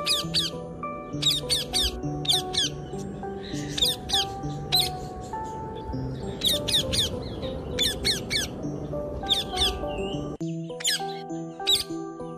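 A parrot in a children's story squawks and chirps in rapid, shrill bursts repeated in clusters, loud and close, over a soft music backing.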